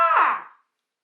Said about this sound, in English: So why are you going out and buying an owl call that sounds like this?